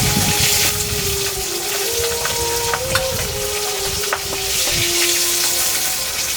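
Fried fish crackles loudly in hot oil with a dense, continuous sizzle as pieces are lifted out, with clinks of a utensil, a faint tonal whine in the background, and no talk.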